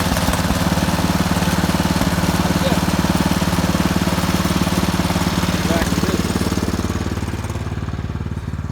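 A lawn mower engine, hot from earlier running, rumbles steadily after a pull start, a loud continuous idle with an even low throb that eases slightly toward the end.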